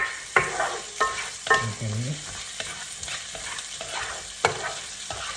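Onions and garlic sautéing in a pan for a spaghetti sauce, with a soft sizzle under sharp scrapes and stirs of a utensil against the pan, and a brief spoken word.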